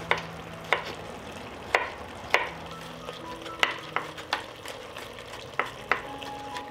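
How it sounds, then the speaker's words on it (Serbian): Schnitzels fry in a pan, giving a steady low sizzle broken by a string of sharp clinks and taps at uneven intervals, with no voices. "Dok se šnicle prže sa druge strane"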